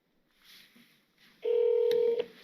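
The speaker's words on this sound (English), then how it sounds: "Calling up Dayton wire wheel." Phone call being placed to Dayton Wire Wheels: a faint line hiss and a short beep give way to a loud, steady ringback tone that cuts off with a click, no talking.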